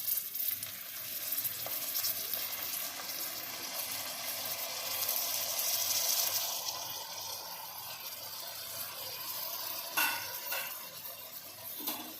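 Mutton sizzles and fries in spices inside a pressure cooker for a Kashmiri yakhni pulao, a steady close hiss with occasional clinks of stirring partway through.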